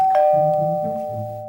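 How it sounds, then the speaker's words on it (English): A single electronic doorbell chime rings out clearly as a stage cue during a murder mystery play, one bright tone that fades over about a second. "A doorbell?"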